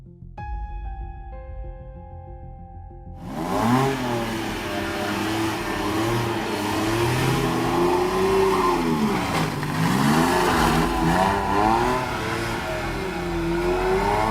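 After a brief tonal lead-in, a sports car engine roars to life and revs continuously, its pitch rising and falling as it accelerates up a snowy hill, loud and close.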